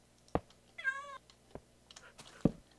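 A Minecraft cat meows once in a drawn-out, tonal call, set among a few sharp clicks and taps from in-game actions, with no talk over it.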